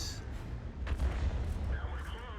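A tank gun firing in a tank video game, with one deep boom and rumble rising out of a steady low engine drone and ambient battle noise.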